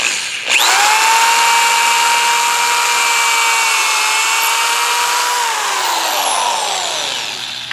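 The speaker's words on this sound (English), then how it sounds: "So here we go. Pilot hole." A corded electric drill bores a pilot hole into a wooden crossbeam support for a temporary puppy fence, a loud steady whine that holds its pitch, then sags slightly as the bit slows near the end.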